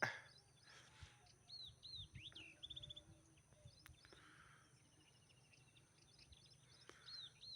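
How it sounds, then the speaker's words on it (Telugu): Scattered high chirps from sparrows, faint and a little distant, short bursts over a quiet outdoor background by a cotton field. "పిచ్చుకల సౌండ్"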